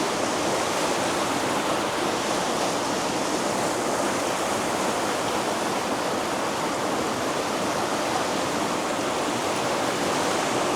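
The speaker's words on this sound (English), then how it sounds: "Let's try this rapids here." Creek rapids on the Roeliff Jansen Kill rush loudly and steadily, a continuous close broadband wash of water with no pauses and no voices.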